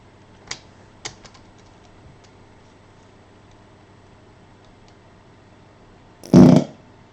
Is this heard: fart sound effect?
yes